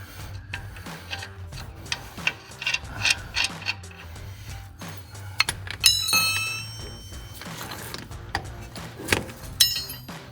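A ratchet wrench clicks in quick runs as a nut is tightened on a Jeep Wrangler TJ control arm, with metallic clinks and tool handling close by in a garage.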